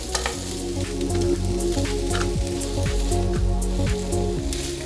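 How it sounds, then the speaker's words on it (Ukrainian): Shrimp and zucchini sizzle loudly in a hot pan over medium heat, with scraping and stirring strokes and crackling pops throughout. "з кожного боку обсмажую креветок буквально по хвилині"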